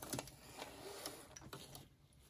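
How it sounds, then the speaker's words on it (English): A home sewing machine stitches along a marked line during foundation paper piecing of quilt blocks, making a quiet, brief mechanical whir with soft ticking needle clicks and no voices. "I just stick my needle down and just sew right on the line."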